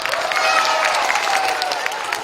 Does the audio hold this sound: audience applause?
yes